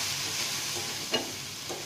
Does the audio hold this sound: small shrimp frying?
yes